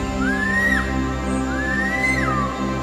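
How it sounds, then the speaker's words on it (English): A rainforest predator gives two bird-like whistles, each a rising then falling tone that holds briefly before sliding down. They are clear and fairly loud over a steady low background hum. "His whistle sounds like a bird."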